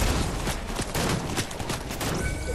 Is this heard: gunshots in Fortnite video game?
yes